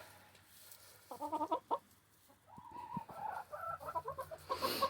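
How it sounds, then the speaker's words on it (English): Backyard hens cluck in their coop, with soft, close, rhythmic bursts of clucking and short calls coming in clusters against a quiet outdoor background. "I love having these chickens."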